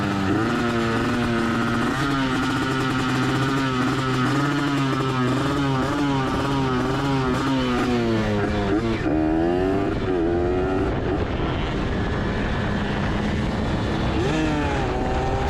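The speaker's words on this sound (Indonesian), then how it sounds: "bunyi suara motor kita yang lumayan putus-putus apinya" A two-stroke Kawasaki Ninja motorcycle engine with a failing coil runs loud and close, its buzzing revs rising and falling in waves, then stuttering and cutting out unevenly as it misfires.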